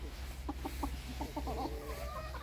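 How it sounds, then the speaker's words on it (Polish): A young rooster clucks in short bursts close by, a string of brief calls separated by pauses, during a session of fitting leg rings on newly acquired birds, with steady low background hum underneath. "Jeszcze kogucik."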